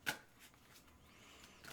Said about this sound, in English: We're going to shuffle a couple more times.